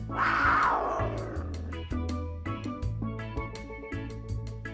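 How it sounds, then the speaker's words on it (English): A lioness lets out a loud, rough roar at the start that fades over a second or two, set against a steady background of bouncy music. "Lioness."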